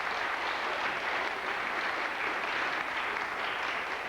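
An audience at a memorial concert in Roslea gives a performer a steady, even round of applause, a continuous moderately distant wash of clapping with no speech over it.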